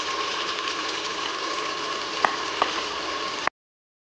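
Dry spices fry in a ginger-garlic masala inside an Instant Pot for a mutton curry, giving a steady, close broadband sizzle with a few faint stirring clicks. The sound cuts off abruptly near the end.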